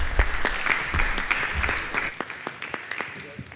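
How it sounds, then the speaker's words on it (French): An audience at a conference panel applauds after a speaker, with a dense burst of clapping that thins out into a few scattered claps. "je vais vous applaudir"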